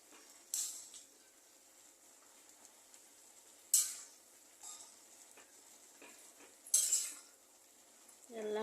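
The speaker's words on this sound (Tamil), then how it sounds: "இப்போ லைட்டாக கலரி விடலாம்" Curry in a pan is stirred lightly with a utensil, producing a few soft scraping strokes and faint clinks spaced a few seconds apart over a quiet, faint background sizzle.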